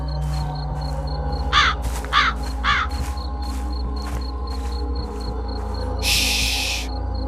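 A crow caws three times in quick succession against a low droning background, a sound effect in a horror story set on a cold, windy night, followed by a brief hiss of noise.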